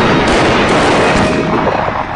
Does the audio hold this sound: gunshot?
yes